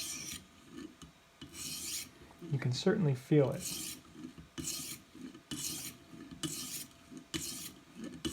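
A kitchen knife with a burr is drawn across a sharpening stone in steady repeated strokes, each a close gritty rasping scrape about a second long. One stretch in the middle is louder and more cluttered, and a person speaks briefly.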